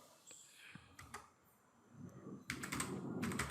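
Computer keyboard typing during a computer basics class: quiet scattered key clicks at first, then a fast, denser run of keystrokes close to the microphone, with no talking.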